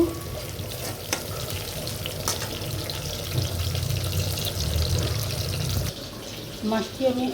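Masala paste for chicken sheek kebab fries in a pan with a steady, fairly loud sizzle and occasional stirring scrapes, then a short burst of talk near the end.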